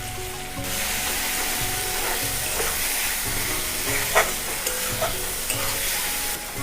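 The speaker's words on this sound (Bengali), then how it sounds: "ভাজা ভাজা হয়ে গেছে" Spice paste for a North Bengal hill-style squash posto curry sizzles steadily in oil, with repeated stirring scrapes of a spoon across the pan at a close, even level and no talking.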